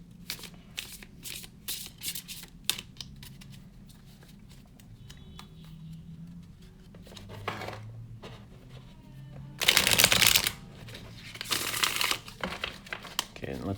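Alchemical Tarot cards riffle and patter in rapid bursts of overhand shuffling, close up, with louder flurries near the end and a voice speaking intermittently.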